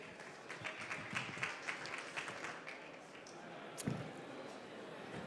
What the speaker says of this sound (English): Please give a round of applause to Compiter